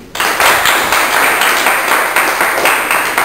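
Loud, close applause from spectators after a women's boxing bout, a thick wash of rapid clapping that starts abruptly and holds steady with slight swells, no voices over it.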